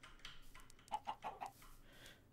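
A quick run of four soft clucks from a chicken in Minecraft, faint and evenly spaced, amid quiet background game sound.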